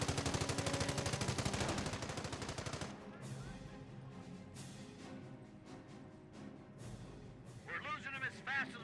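A .50 cal machine gun fires in the Company of Heroes battle game, with loud dense bursts at the start, then a busier mix of scattered shots and explosions, plus a voice talking over the action.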